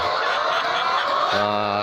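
Chickens being given injections for snot (infectious coryza), with a short burst of loud, close fowl calls and a sustained nasal honk-like cry at the end.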